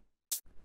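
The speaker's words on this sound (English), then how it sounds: "The next sound that we have here is this hi-hat," A single short hi-hat sample for dub techno, one crisp, bright hit that cuts off quickly, faint and isolated against near silence.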